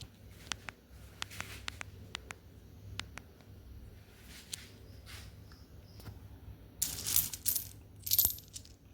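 Aluminium and copper-nickel 10 paise coins are handled at close range, giving sharp, scattered metallic clicks and light taps, followed by a couple of brighter rattling bursts as the coins are shuffled together.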